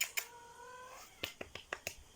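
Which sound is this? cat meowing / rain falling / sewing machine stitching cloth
cat meowing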